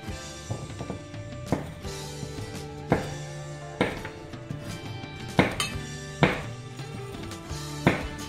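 Cooked spaghetti squash being tipped into a pan, heard as a string of clinking, knocking utensil and pan taps at irregular intervals, fairly close and clear with no talking.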